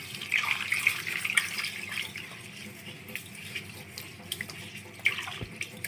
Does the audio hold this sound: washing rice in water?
yes